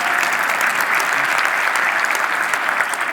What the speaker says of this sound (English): you should clap at that.